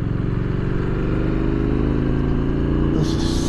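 A 2024 Triumph Scrambler 900 motorcycle being ridden, its engine a loud, steady, close rumble with dense low harmonics and a slight rise in pitch near the end, plus rushing wind noise and no talking.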